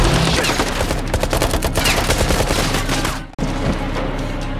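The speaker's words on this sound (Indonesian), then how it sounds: "Ketika berada di luar, terjadi baku tembak" Rapid, sustained gunfire in a film shootout with Taliban fighters outdoors: dense, loud automatic bursts overlapping with single shots, briefly cutting out near the end before resuming.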